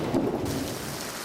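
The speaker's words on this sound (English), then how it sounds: "the stormy weather doesn't help much" Stormy night weather, with a brief low roll of thunder over a soft, steady hiss of rain, heard quietly and at a distance for just over a second.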